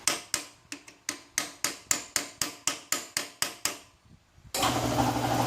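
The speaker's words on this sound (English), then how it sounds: "excuse my compressor." A workshop air compressor kicks on after a run of sharp, evenly spaced mechanical knocks, then drones loudly and steadily close by.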